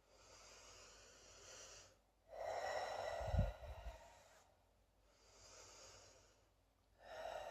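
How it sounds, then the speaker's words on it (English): Slow, deep breaths during an EFT breathing exercise, heard close and alone: long airy inhales and exhales in a calm, repeating rhythm with a short nasal snort in the middle. "Take 3 deep breaths."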